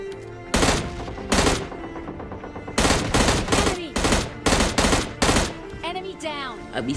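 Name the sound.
gunfire in video game PUBG Mobile Lite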